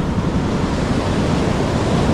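Ocean surf washes onto a seashore strewn with trash in a loud, continuous broadband roar, wind buffeting the microphone throughout, no voices over it.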